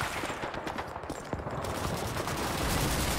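Rapid gunfire from the World War II shooter Call of Duty 2, a Rangers mission against enemy soldiers, with dense, continuous bursts of shots that stay loud and steady throughout, with no talk.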